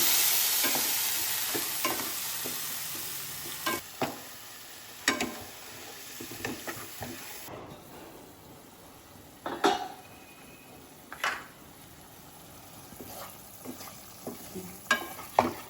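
Potatoes coated in ground coriander-leaf and green chili paste fry in a pan while a spoon stirs and scrapes them, giving a soft steady sizzle broken by sharp utensil clinks against the pot.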